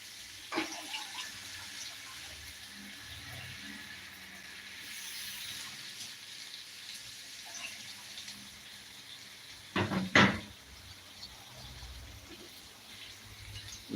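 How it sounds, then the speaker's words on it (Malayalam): Tamarind water and plain water poured into a cooking pot for rasam, a steady close splashing pour running through most of the stretch, with a brief louder gush near the end. "പുളിവെള്ളം ഒഴിച്ച് ആവശ്യത്തിന് വെള്ളം കൂടി ചേർത്ത് കൊടുക്കുക"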